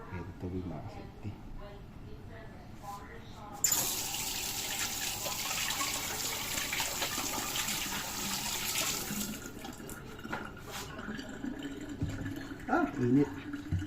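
Water poured into a bowl of grated coconut for squeezing out coconut milk in a home kitchen, a steady splashing rush lasting several seconds, close, with people talking around it.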